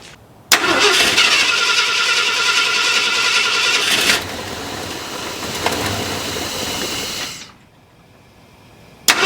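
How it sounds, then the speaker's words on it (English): A cold car engine cranks and catches with a loud roar on an early morning, runs briefly, then settles lower before cutting off abruptly; no voices. "let's go ahead and fire up the engine"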